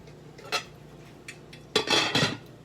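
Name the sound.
lid being put on a cooking pot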